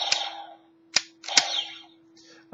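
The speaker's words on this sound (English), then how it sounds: "Then, of course, it fires the little missiles." Several sharp, snappy firing pops from a toy dragon's missile launcher, spaced irregularly, each with a short buzzing tail and a faint steady electronic tone underneath.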